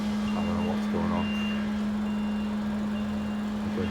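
A lorry manoeuvring into position close to a building window sounds a steady, loud reversing beep that stays constant throughout, with faint engine and street noise underneath.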